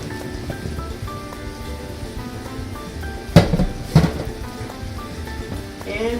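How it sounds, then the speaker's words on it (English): Cooked noodles being drained: two short splashing gushes of water over a steady kitchen background hum with faint tonal music. "now we're going to drain our noodles"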